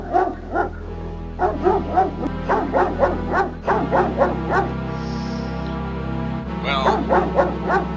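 A shadow dog in King's Quest VII gives repeated yipping barks in short bursts, fairly close, over a steady low game music drone, with a whimpering tone between volleys.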